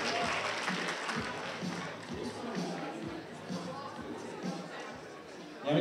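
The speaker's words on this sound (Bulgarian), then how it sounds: "Аплодисменти за нея" Audience applause for a participant at a children's olympiad event in Ruse, a moderate, steady patter of clapping with background chatter and a few thumps, fairly faint and distant.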